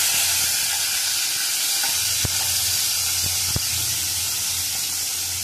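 Tomatoes dropped into a hot pan for a Satputi monsoon wild-vegetable bhaji made without onion or garlic give a steady, loud, broadband hiss. A couple of sharp clicks cut through it, and no one speaks.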